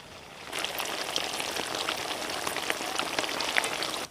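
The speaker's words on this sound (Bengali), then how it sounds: "ঠিক একইভাবে বাকি মিষ্টিগুলো ভেজে নিচ্ছি।" Semolina sweets frying in oil, giving a dense, even sizzle that starts abruptly after a quiet half second and carries on steadily with fine crackling pops.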